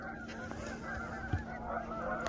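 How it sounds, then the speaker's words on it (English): Geese honking repeatedly over a steady background hum, with one louder, closer honk standing out midway, near a boat under restoration. "And the geese are cheering us on again."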